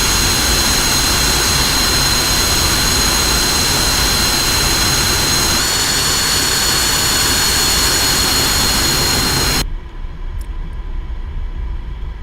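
An F-5 Tiger jet lands with its braking parachute out, a loud roaring jet-engine rush with a steady high whine that holds for nearly ten seconds and then cuts off abruptly to a fainter distant rumble.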